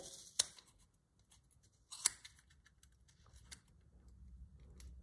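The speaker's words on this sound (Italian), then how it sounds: "taglio il filo entrando con la forbice" Scissors snip knitting yarn while a knitted Tarassaco shawl-neckwarmer is trimmed, giving two crisp, close cuts a second and a half apart, with faint handling rustle between them in a quiet room.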